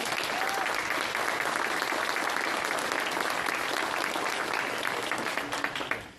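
At a city State of the City address, an audience gives sustained applause to violinists from the San Jose Youth Symphony. Broad, dense clapping holds steady for several seconds, then tapers off at the end.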